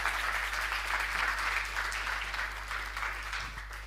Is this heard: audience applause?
yes